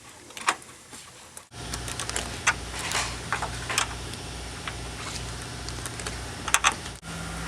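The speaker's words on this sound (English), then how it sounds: "Now we can tighten down the little number 10 bolts that keep everything in place." Small number 10 bolts being tightened on a dryer condenser, a quick run of light ratcheting ticks and clicks close by over a steady background hum, with a brief pause partway through.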